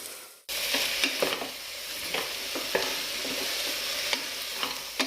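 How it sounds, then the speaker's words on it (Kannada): Tomatoes fry in a pan with a steady, close sizzle, broken by the scrape of a spatula stirring several times, after a brief silent start. "ಟೊಮೊಟೊನೂ ಫ್ರೈ ಮಾಡ್ತಾ ಇದ್ದೀನಿ"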